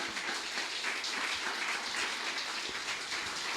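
Congregation in a church service clapping as an offering of praise, a steady, dense wash of applause sustained evenly throughout, with no voices over it.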